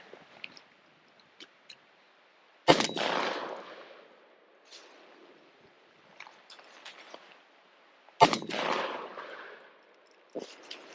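A Mossberg 930 semi-automatic shotgun fires cheap ammunition outdoors, with two loud, sharp blasts a few seconds apart, each trailing off in a long echo, and soft clicks and handling noises in between.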